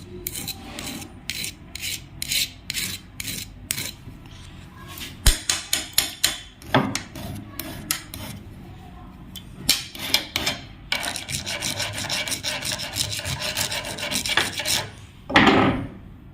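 Metal is filed and rubbed by hand to polish a cut mark off the looper of an overlock sewing machine. Rapid, steady rasping strokes run close and fairly loud, broken by a few sharp tapping knocks, with no talking.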